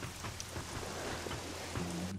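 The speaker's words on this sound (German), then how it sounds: "Und natürlich regnet es." Rain falls in the video game Risen 2: Dark Waters, a dense, steady hiss of drops at even loudness throughout, with no talk.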